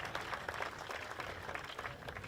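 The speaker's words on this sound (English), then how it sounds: "Everybody give a big round of applause too to Christopher Bell," Audience applause at an Atlanta Motor Speedway event, a steady wash of clapping from a crowd that holds at a moderate, somewhat distant level throughout.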